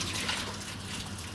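Water rushing steadily over wool fleece during a pre-rinse at a fibre mill, a continuous close gush with no pauses.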